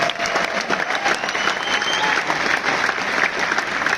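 Dense, steady applause from an audience at a live comedy event in New Delhi, a continuous wash of many hands clapping at even loudness for the whole stretch, with no talk over it.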